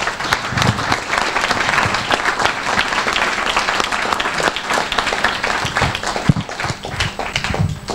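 An audience at an academic award ceremony applauds all participants with dense, sustained clapping that fills the room evenly from start to finish, with no voices over it.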